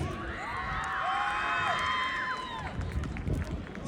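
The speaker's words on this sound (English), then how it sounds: "Keep cheering, motivate them." Spectators cheer and shout for team Tulip at a college football final, a loud, continuous crowd roar with whistling cries rising through the first few seconds before thinning into scattered noise.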